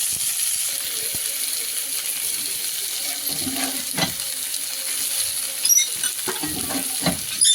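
Bananas sautéing with salt and turmeric in a pan, a steady soft sizzle heard close, broken by a few sharp clinks and scrapes of utensils against the pan toward the end.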